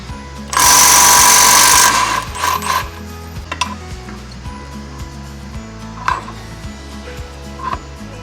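Impact wrench loosening a nut on a Toyota 4Runner rear suspension, one loud close burst of rapid hammering followed by softer clicking and clanks of metal.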